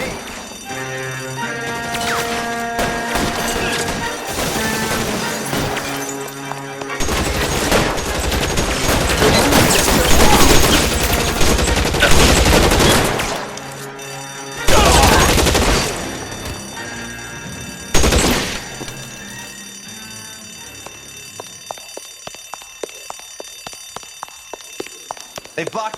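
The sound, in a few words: gunfire in LA Noire video game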